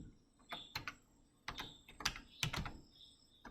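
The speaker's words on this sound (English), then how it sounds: "Now go to your browser, type localhost" Close, crisp keystrokes on a computer keyboard as a web address is typed into a browser, arriving in short irregular bursts with brief pauses between them.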